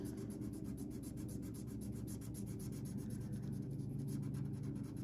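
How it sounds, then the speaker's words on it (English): Pen coloring on paper, close and quiet: continuous fine scratchy strokes in a quick back-and-forth rhythm with no voice over them. "Here's a little ASMR for you. I know there's channels dedicated to just coloring."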